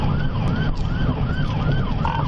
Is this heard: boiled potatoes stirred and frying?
no